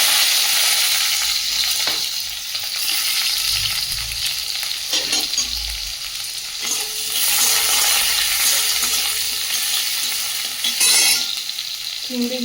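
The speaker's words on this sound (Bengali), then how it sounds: "শাকটা ভাজা চাপিয়ে দিয়েছি আর কড়াই দিয়ে দিয়েছি শুকনো লঙ্কা রসুন কুচি কুচানো পেঁয়াজ" Greens fry in a wok with dried chili, chopped garlic and onion, a loud steady sizzle broken by stirring clatters and a metallic clink or two, close up and without speech.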